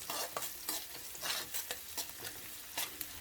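Onion pieces and green chillies stir-fry in hot oil on a high flame, a soft sizzle broken by rhythmic scraping strokes of a spatula, close and alone.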